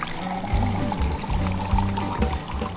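Water poured into a bowl of flour to make homemade pasta dough, a steady liquid stream with gurgling pulses, close and fairly loud, with no talk.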